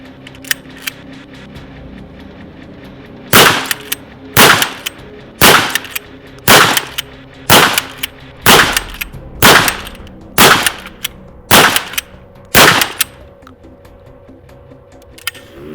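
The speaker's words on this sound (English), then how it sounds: "It's going to be the very first time I shoot this shotgun" A Hunt Group MHP005 shotgun fired from a 10-round box magazine: about ten loud, sharp blasts at a steady pace roughly a second apart, each trailing a short echo, with no talk.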